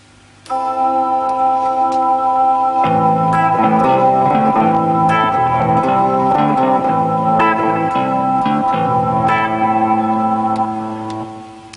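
Layered synth-like tones from a Roland G-77 guitar synthesizer ring out with reverb and echo, shifting through sustained chords and plucked notes for around ten seconds before fading.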